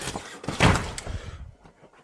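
A door frozen shut is forced open on a winter morning at a farm ark, giving a cluster of loud thumps, cracks and scraping bursts over about two seconds.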